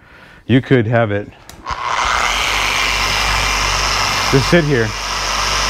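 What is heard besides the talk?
Adams dual-action car paint polisher running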